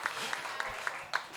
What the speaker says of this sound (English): so everyone give Tammy applause